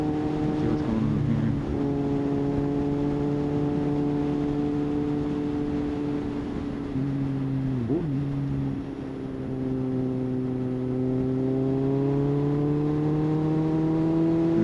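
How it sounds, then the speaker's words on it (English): A 2007 Kawasaki Z1000 with a GP dual exhaust rides along a one-lane road, a steady, loud engine drone with smooth rising and falling pitch and a brief dip in revs midway. "Now this bike is loud. It's got the dual exhaust. It's got the GP exhaust, which is loud and naturally loud."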